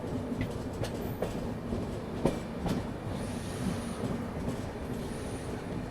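Mumbai-Ahmedabad double-decker express train running on rails, a steady rumbling roll with periodic clacks of wheels over rail joints and faint high squeals, continuous throughout.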